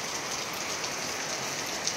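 Heavy rain pours down steadily, a dense, loud patter on a hard surface with no pauses and no voices.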